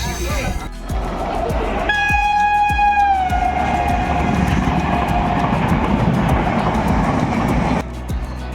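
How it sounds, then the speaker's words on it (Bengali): A train running from Howrah toward Panskura sounds a loud, sustained horn of harmonic tones after a brief rumble. A steady, close rolling clatter then continues and stays unbroken almost to the end. "হাওড়া থেকে ট্রেন ছেড়ে দিয়েছিল পাঁশকুড়ার উদ্দেশ্যে"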